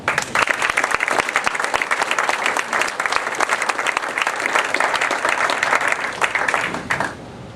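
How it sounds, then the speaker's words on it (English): An audience at a Main Street Iowa event in Manning claps steadily in loud, dense applause that holds for about seven seconds before it quickly tapers off. "But I want a big round of applause for Jim."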